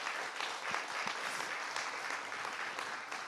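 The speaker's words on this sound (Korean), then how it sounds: "이웃집 아저씨 엄마들도 박수 한번 보내주세요." Steady audience applause at a talk, many hands clapping together in a dense wash that holds through the whole stretch at moderate loudness with no voices over it.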